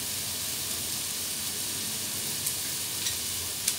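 Olive oil sizzles in a frying pan as a steady, bright hiss with a few sharp pops, loud and close with no talking.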